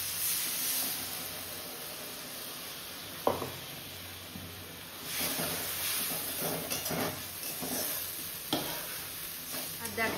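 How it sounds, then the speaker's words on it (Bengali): Onions and potatoes fry in a pan on a home stove, a soft continuous sizzle broken by several sharp scraping stirs and clinks of a spatula, close and moderately loud. "দেখো প্রায় ভাজা হয়ে এসছে"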